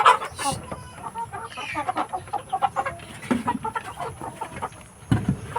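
Several chickens cluck busily nearby, a steady stream of short clucks and chatter, with a few louder squawks.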